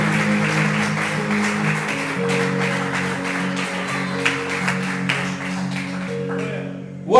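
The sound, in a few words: congregation applauding in church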